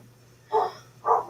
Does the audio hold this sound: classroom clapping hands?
no